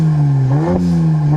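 A car's exhaust in comfort mode gives a steady, close, low droning idle that swells briefly in a light rev before settling back to an even hum, with no voices.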